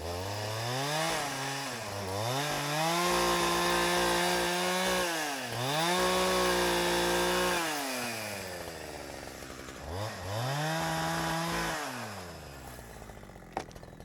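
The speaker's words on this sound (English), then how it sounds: "It's a slow process, milling lumber with a chainsaw" A chainsaw milling lumber drones steadily for a long stretch, its pitch dipping and recovering repeatedly as the bar bogs into the log and frees up again, loud and close with no talking.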